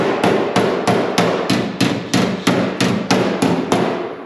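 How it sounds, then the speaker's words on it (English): A hammer strikes the inside lip of a steel 1965 Impala quarter panel in an even run of about twelve sharp, ringing blows, roughly two per second, loud and close with nothing else heard. "I'm hammering the inside, not hammering the outside"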